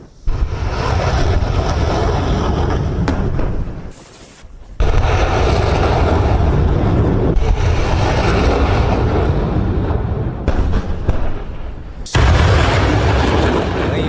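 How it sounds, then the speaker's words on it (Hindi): Loud, sustained roaring blasts from howitzer fire in a live-fire military exercise rumble on and off, broken by brief lulls, close and overwhelming. "यहां भी धमाके।"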